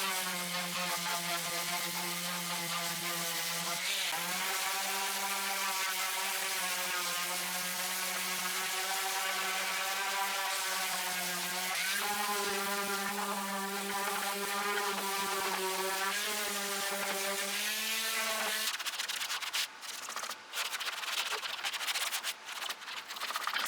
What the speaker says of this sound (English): So let's get started on sanding.